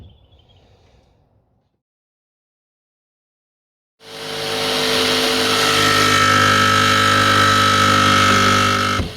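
After a few seconds of near silence, a jigsaw bursts into a loud, steady buzzing run as it cuts a roof opening for a MaxxAir fan.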